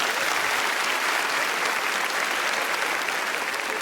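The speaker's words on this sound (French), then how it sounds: "Allez-y, applaudissez." Women in a comedy show audience applauding together, producing a thick, even roar of clapping that stays constant and loud from start to finish.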